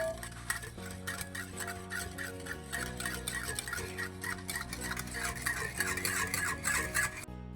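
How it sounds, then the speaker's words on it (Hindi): A spoon stirs a mixture of mayonnaise, yogurt and crushed garlic in a bowl, making rapid, regular clicking and scraping strokes up close over steady tonal background music. "इसको करेंगे हम अच्छी तरह मिक्स"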